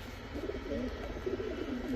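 Pigeons at a Bangladeshi pigeon sale, including a breeding pair of milky-khaki birds, give low, soft, continuous cooing that rolls and murmurs close by, with no talk over it.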